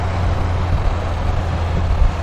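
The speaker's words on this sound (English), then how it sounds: "blue panel van is just entering it now." A blue panel van moves through a roundabout near a house, a steady low rumble of engine and road noise at moderate distance with no talk.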